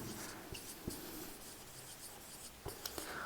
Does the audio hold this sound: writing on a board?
yes